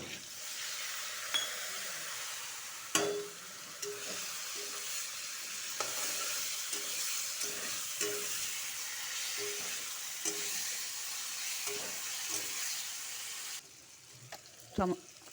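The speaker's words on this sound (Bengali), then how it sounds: "টমাটোটা ভাজা হয়ে গেছে" Chopped tomato frying in a pan, a close, steady sizzle broken by repeated scrapes and stirs of a utensil and a few clinks, with no speech.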